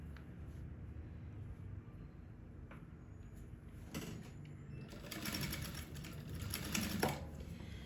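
A straight-stitch sewing machine stitches bias binding along the edge of wide-leg trousers, a soft mechanical whir that grows louder and denser in the second half, close and without speech.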